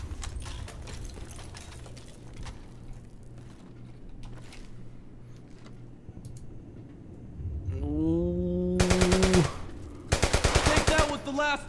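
Bursts of rapid automatic gunfire from the World War II shooter Brothers in Arms: Hell's Highway crackle loudly in the last few seconds, after quieter scattered shots and game sounds.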